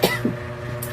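A person coughs twice in quick succession, a sharp cough at the start and a softer one a moment later, close by in a quiet room.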